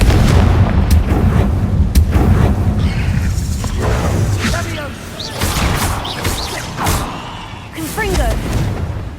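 The Confringo blasting spell in Hogwarts Legacy sets off repeated booming explosions with crackling debris and rumbling low-end, loud and dense, mixed with game effects and some vocal sounds.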